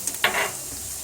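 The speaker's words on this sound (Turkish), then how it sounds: "Evet, kıymamız yavaş yavaş kavrulmaya başladı." Minced meat browning in a pan for Turkish stuffed eggplant (karnıyarık), with a soft steady sizzle and a brief scrape of stirring in the middle.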